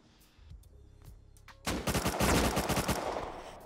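AK rifle gunfire in the Rust survival game, a quiet stretch of scattered faint sounds followed by a sudden loud burst of rapid automatic shots that keeps going to the end, close and dominant.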